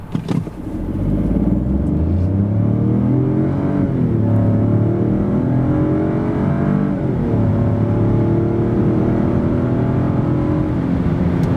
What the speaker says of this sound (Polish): Tak wygląda w tym aucie sprint od zera do setki.